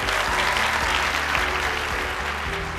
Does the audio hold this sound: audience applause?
yes